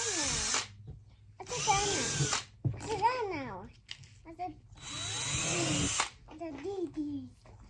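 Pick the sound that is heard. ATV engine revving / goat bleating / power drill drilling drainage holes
power drill drilling drainage holes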